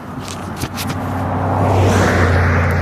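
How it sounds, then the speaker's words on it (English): A car on a rainy roadside passes with a steady engine hum that swells and holds louder toward the end, over a low constant drone and a brief scrape near the start. "All the cars passing by without a care in the world."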